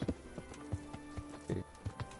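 Hooves of a horse in the medieval video game Kingdom Come clop unevenly, about eight soft thuds at close range, quiet against a faint background.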